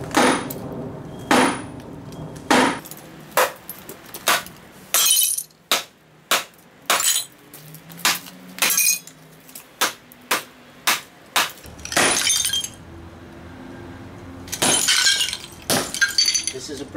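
A sledgehammer smashes floor tile over a mortar bed in a series of loud, sharp cracking impacts with brittle clinking debris, spaced irregularly. A person talks between some of the blows.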